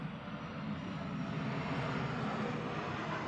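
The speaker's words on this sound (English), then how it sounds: "there's planes going overhead every 5 seconds" Airplanes flying overhead near an airport, a steady loud broadband roar of jet engines that holds without a break.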